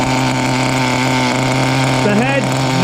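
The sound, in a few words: Kyosho small block nitro engine idling in FW-05T RC car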